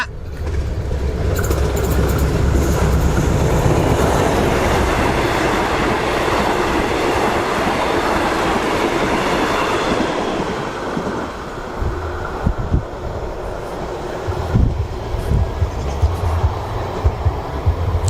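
Passenger train 233, Bangkok to Surin, rumbles loudly past at close range through Ban Ma railway station in Thailand, with a steady roar of wheels and carriages that eases slightly toward the end, and no voices.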